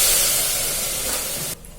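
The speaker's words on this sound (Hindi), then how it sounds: "देवी जी अंदर में सब्जी बनाते" A tadka of spices tempering in hot oil for a vegetable curry gives a loud, continuous, close sizzle that cuts off abruptly near the end, with no talking.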